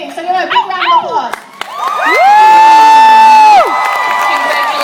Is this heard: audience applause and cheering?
yes